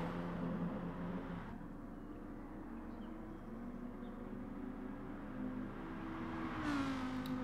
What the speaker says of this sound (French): Au volant de la Lamborghini, qui est assez à l'aise, hein, cette Lamborghini sur le circuit de Dragon Trail.